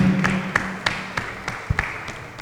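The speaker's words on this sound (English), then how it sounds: "A round of applause for Team Proposition." An audience applauding a winning school debate team, a run of distinct claps at a steady pace over a low hum, moderately loud and close.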